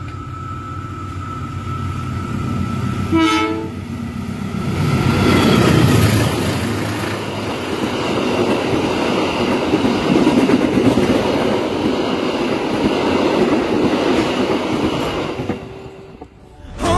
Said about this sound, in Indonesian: Kayaknya bentar lagi kereta api Matarmaja akan bersilang dengan salah satu kereta.